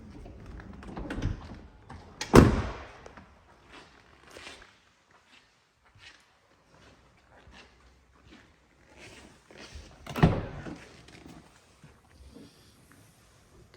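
Two heavy thuds of the rear doors of a 2021 Volkswagen Transporter T6.1 van slamming shut, one at a time, with quieter shuffling and tapping between them.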